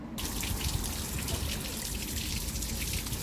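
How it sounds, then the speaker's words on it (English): An outside tap runs cooling water through a 40-plate wort chiller during a rainy brew day, giving a steady, close hiss and splatter of flowing water with no pauses. "Now I've got to go out there in rain and turn the tap on outside"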